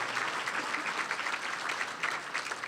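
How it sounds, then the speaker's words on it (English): Applause from a gathered audience welcoming a guest's mother and father at an Illinois Tollway event, a smooth, even roar of many hands, fairly faint and distant, sustained without talk. "why don't we give them a fabulous round of applause to Kristi Lafleur's mother and father"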